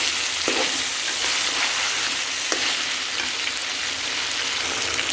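Chicken curry sautéing in a pan gives a loud, continuous close sizzle and crackle of frying, with occasional stirring scrapes and no voices.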